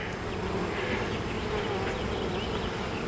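Honey bees swarming over open frames during an end-of-June beehive inspection, a dense, steady, close buzz that fills the whole moment without pause, with no talking.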